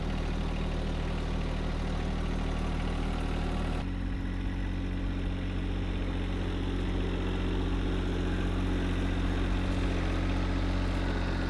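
A John Deere 1025R compact tractor engine runs steadily with a continuous low drone and vibration, its tone shifting slightly partway through, with no talking.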